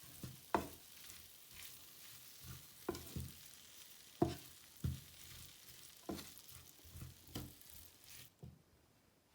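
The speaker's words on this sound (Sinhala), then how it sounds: "දැන් අපි මේක හොඳට කවලම් කරගන්නවා." Broccoli and zucchini being stirred as they fry in a pan, a steady soft sizzle broken by periodic scraping strokes of the spoon, fairly quiet and close, with no one talking.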